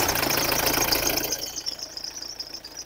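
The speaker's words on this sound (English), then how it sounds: "I'm going to start the car and find out what's going on in engine bay." Engine of a 2017 Nissan X-Trail with a suspected blocked DPF and boost leak, running in the engine bay: a steady knocking idle with a high whine, loud at first then settling quieter after about a second and a half.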